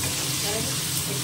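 Turmeric, salt and green chillies sauté in a hot pan with a steady, close sizzle and faint stirring, with no voices.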